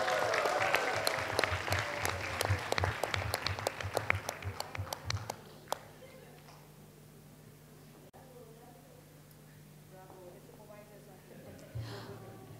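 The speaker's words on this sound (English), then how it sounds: "give a big hand of a round of applause to Mrs. Suhana Ahmad." Audience applause at a university Three Minute Thesis event for gold medalists, dense clapping for about five seconds that then fades out, leaving low murmur and room noise.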